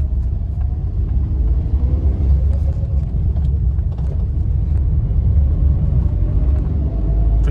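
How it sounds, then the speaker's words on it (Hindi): Maruti Alto running on CNG, its engine a steady low rumble heard close up while the car pulls away and accelerates, with no talk over it. "अभी गाड़ी पे पिकअप कैसा मिल रहा है आपको CNG पे वो दिखाएंगे एक बार"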